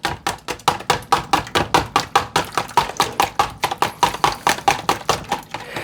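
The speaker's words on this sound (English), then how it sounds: "I'm just going to slowly whisk it in." Steady rhythmic whisking of eggs with lemon juice for a Greek avgolemono soup, a whisk clicking against a bowl about four times a second, close and even, with no talking.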